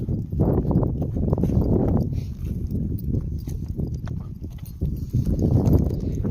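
Horse hooves clop in a steady walking rhythm on a hard surface, close and fairly loud, with no voices.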